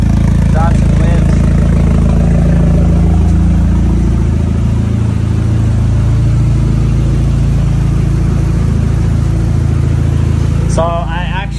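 A Datsun 510 with a swapped SR20 engine idles loud and close, a steady low drone that barely changes, with a brief voice near the end.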